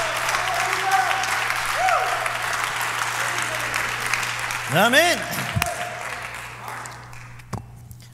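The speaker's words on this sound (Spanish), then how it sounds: "Dele ese aplauso al Señor." A church congregation applauds for the Lord during a Spanish-language worship service: a sustained, even wash of clapping from many hands. Someone calls out a short word partway through, and a few sharper tones and knocks stand out near the end.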